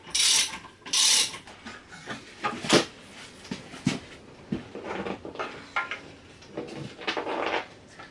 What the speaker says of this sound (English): Prop this up on my jack.